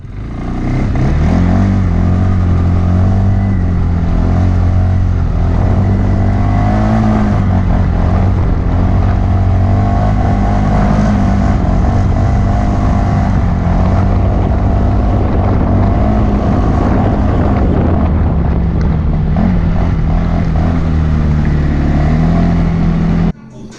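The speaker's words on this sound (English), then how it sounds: "we're about to go take my four-wheeler for a second time now of me owning it, a little spin in the snow" A four-wheeler engine drones loudly and continuously as the ATV rides through snow, with heavy wind rumble on the microphone throughout.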